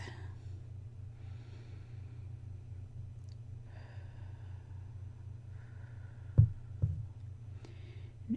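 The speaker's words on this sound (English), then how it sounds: "Take a nice good deep breath." Slow, audible deep breathing during a seated guided meditation, soft airy inhales and exhales close to the listener over a low steady hum, with a couple of brief louder puffs near the end.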